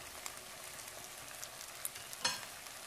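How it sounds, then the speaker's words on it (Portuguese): Calabresa sausage frying in a pan while being stirred, a faint steady sizzle with light scrapes and a sharper clink near the end, no talking. "Aí eu vou dar mais uma mexidinha."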